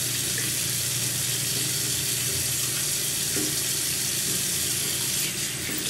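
Tap water runs continuously into a sink while a face is washed after an avocado scrub, a loud, even rush of flowing water with light splashing throughout and no talk.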